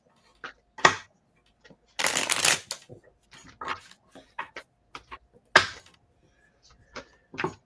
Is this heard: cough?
no